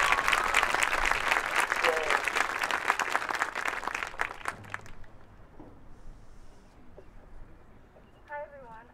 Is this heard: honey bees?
no